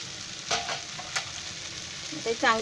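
A spoon stirs masala dosa vegetable filling in a hot pan, with a soft steady sizzle under a few distinct scraping strokes and a louder clatter at the end; no talking.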